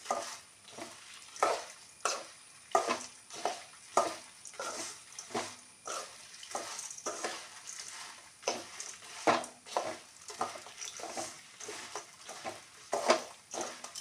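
Curry leaves tossed in a pan while making rasam powder, heard as a quiet, irregular series of sharp crackles and scraping stirs, one burst after another with short pauses between.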